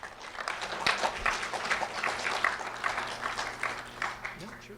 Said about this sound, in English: a round of applause for Darlisa Machado, please